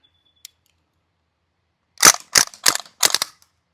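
A North East Sten gas blowback airsoft gun fires four sharp, close cracks in quick succession on a low gas fill, preceded by a single faint click in an otherwise quiet moment.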